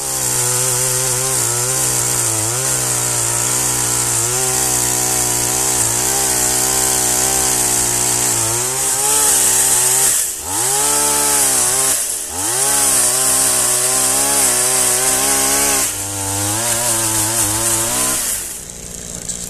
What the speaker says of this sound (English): To get in here with a normal chainsaw.